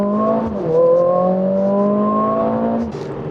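Mercedes-AMG CLA 45 S 4Matic+ launch-control start: the engine holds a loud steady rev, then surges as the car pulls away, pitch climbing smoothly for a few seconds before a gear change drops it, no talking.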